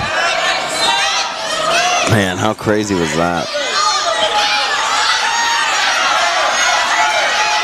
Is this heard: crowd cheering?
yes